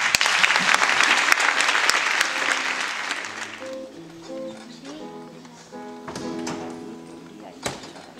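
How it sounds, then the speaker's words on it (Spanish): Applause for a young performer at a music school recital, a burst of many hands clapping that fades after a few seconds into a few notes of an instrument, with a couple of sharp knocks. "Un aplauso para Ari."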